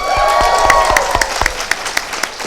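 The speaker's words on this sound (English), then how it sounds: "we got so rudely interrupted by you people cheering" An audience at a New York Comic Con panel claps and cheers, with a dense burst of applause that thins into scattered individual claps toward the end.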